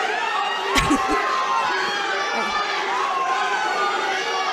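A crowd watching a grappling match at Takeover 2017 cheers and shouts continuously, with a brief louder burst of noise near the start and commentary voices over it.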